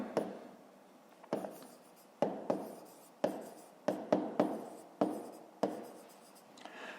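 A pen writes out a fifth-grade math exercise by hand on paper, a series of short scratchy strokes and taps with brief pauses, close and fairly quiet, without any voice.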